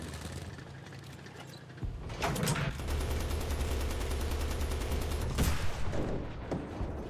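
HE tank shell explosions and heavy gunfire in the Enlisted video game during an Italian tank battle, with a dense, continuous din punctuated by two sharp, loud blasts.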